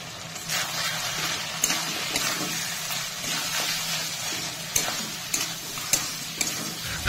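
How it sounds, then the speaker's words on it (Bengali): Chicken trimmings are stirred with ground cumin, coriander and Kashmiri chilli in a sizzling pan, a steady fry broken by several sharp scrapes and clacks of the spoon. "সমস্ত মশলা দিয়ে ভালো করে নেড়ে চেড়ে"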